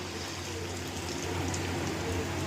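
Besan-coated eggs sizzle and crackle in hot oil over lowered heat, two at a time, a steady close frying hiss with no voices.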